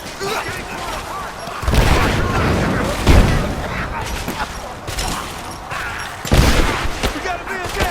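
In Rise of the Tomb Raider, a grenade blast and gunfire mix in a chaotic firefight: repeated sharp bursts and booms over a rumbling background, loud and close, with shouted voices in the mix.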